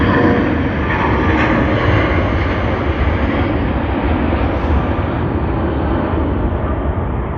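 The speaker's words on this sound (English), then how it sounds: "hopefully American gives us some really good sounds on their 777 as they depart to Los Angeles" An American Airlines Boeing 777 departing Sydney Airport for Los Angeles gives a loud, sustained jet engine roar, a steady broadband rumble that holds throughout with a slight shift as the aircraft passes.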